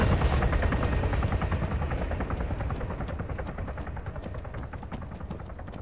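Helicopter in a military video game, loud close rotor chop with fast regular blade pulses under a steady engine roar, fading slightly toward the end.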